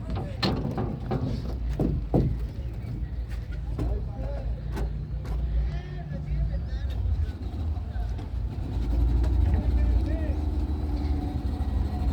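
A small boat motor on a wooden ferry crossing Lake Titicaca drones steadily at low pitch throughout, with people talking and occasional knocks and splashes nearby.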